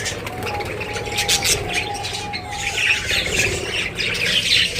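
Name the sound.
pet parrots squawking as they come down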